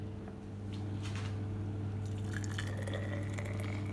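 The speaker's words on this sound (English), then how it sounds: "I'm going to use the jar and I'm going to fill it with boiling water." Boiling water is poured from a kettle into a glass sauce jar, giving a soft trickle and splashing over a steady background hum, close by and quiet, with no talk.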